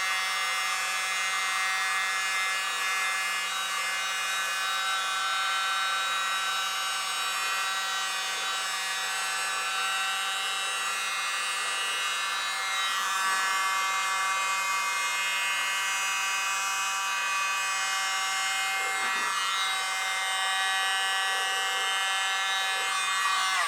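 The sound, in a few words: tiny blower used on fluid acrylic paint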